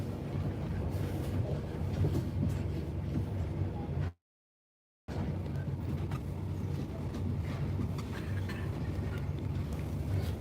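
A train rumbles steadily along its rails with a continuous low roar and faint rattling, interrupted by a brief cut to silence midway.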